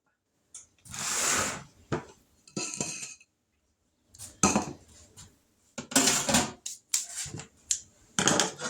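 Metal pans and bakeware are grabbed and handled in a home kitchen while preparing an orange mandarin cake, giving scattered bursts of clanking, scraping and clinking separated by short pauses.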